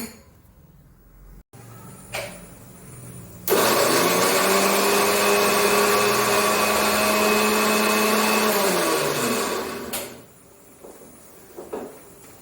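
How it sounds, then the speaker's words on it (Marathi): A mixer grinder loudly grinds roasted coconut, coriander, cumin and garlic in one steady burst of about six and a half seconds, with short kitchen clatter and quiet moments before and after. "असं ह्या सर्व गोष्टी मी मिक्सरमधनं काढून घेणार आहे"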